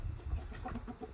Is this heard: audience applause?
no